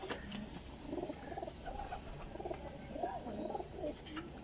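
Faint coos from a flock of Teddy Golden flying pigeons bubble up repeatedly against a steady background hiss, with light pattering and rustling, no talking.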